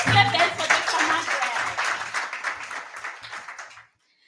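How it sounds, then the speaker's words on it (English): Dense crowd applause for a presenter at a pediatric and adolescent health partnership meeting, a steady wash of many hands clapping that carries on for a few seconds before cutting off. "Let's clap hands for Dr."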